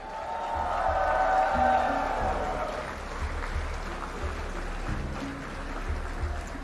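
A crowd cheering and applauding at the inaugural landing of an Indian Air Force C-295 transport aircraft at Navi Mumbai International Airport, a broad swell of voices and whoops rising then easing, with an announcer talking over it.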